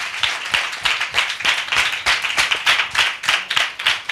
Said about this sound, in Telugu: దేవునికి చప్పట్లు కొట్టు దేవుని మహిమపరచుదాం